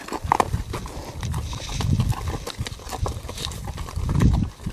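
A saddle horse and a young horse in training move about, with muffled hoof thuds and shuffling on soft ground, irregular and close, alongside some rustling and handling noise.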